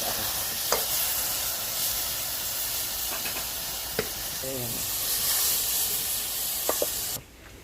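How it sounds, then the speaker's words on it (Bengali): Radhuni and mustard seeds hiss and sizzle steadily in a pan after spice water goes in for a vegetarian neem shukto, with a few soft clinks, before the sound cuts off near the end. "মশলা জল দিয়ে দিচ্ছি, রাঁধুনি আর সর্ষে।"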